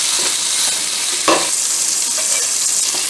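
Tomatoes sautéing in a pan, a loud steady sizzle with occasional stirring scrapes throughout, no voices.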